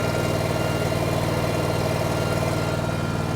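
The engine of a 2024 Super 104 runs at a steady idle, a constant low rumbling drone with even vibration and no change in pitch over the few seconds, close by with no talking.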